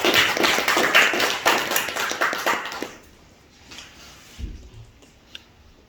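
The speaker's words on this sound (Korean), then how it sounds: "우리 최전성 장로님 나올 때 박수로." Congregation applause at a Sunday church service in Korea as an elder comes forward, dense rapid clapping that fills the first three seconds, then fades to quiet room noise with a few faint thumps.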